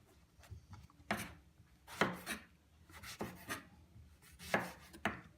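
A knife slicing eggplant on a cutting board, about eight soft, quiet strokes at an uneven steady pace, each a short scraping chop close to the listener.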